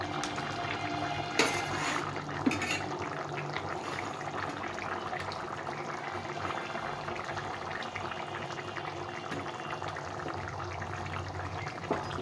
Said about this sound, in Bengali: এখন আমি এই পনিরগুলো দিয়ে দেবো।